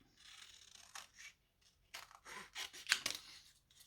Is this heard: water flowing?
no